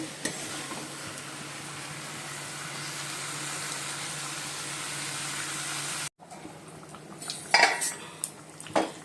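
Mutton curry being sautéed in a pan with fried potatoes nearby: steady broadband sizzle for six seconds, then a quieter stretch with a few sharp metallic clinks of a utensil against the pan.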